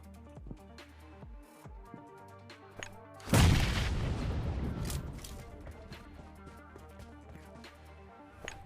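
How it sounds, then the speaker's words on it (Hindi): A grenade blasts in a PUBG-style battle royale game, a loud sudden boom with a rumbling tail that fades over several seconds, set among scattered in-game gunshot pops. "अब तुम्हारे लिए आ रहा है एक प्यारा सा ताजा सा ग्रेनेड, जो कि मैं इनके पास जाकर इन्हें देने वाला हूँ"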